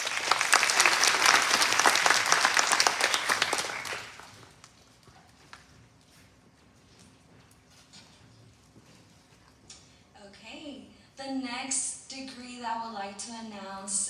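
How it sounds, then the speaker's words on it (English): Audience applause at a college graduation ceremony, loud and dense for about four seconds before dying away, followed by quieter room sound and a voice speaking over a microphone. "Another round of applause."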